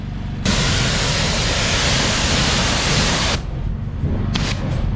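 A hose sprays a loud, steady rush of water on a Nissan GT-R for about three seconds, then cuts off, leaving quieter hiss and a few brief bursts.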